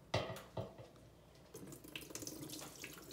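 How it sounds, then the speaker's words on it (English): Tea water is tipped out of a warm pan into a sink, two quick splashes followed by a steady, gurgling pour that runs to the end, close and fairly quiet. "So what I'm going to do now is drain this tea off."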